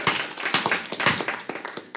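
City council meeting attendees applaud city staff and department heads, a short burst of close, irregular handclaps from a modest crowd in a meeting room.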